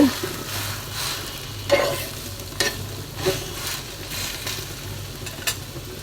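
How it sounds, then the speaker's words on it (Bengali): Bread-and-egg snack frying in a pan, a steady close sizzle with several sharp scraping stirs and flips spaced through it, no voices. "এটাও আমরা আপনাদেরকে ভেজে দেখাবো"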